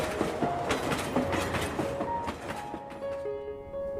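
A cartoon train pulling away and running, with rhythmic clickety-clack wheel noise under a rumbling drone and a few tonal whistle-like lines.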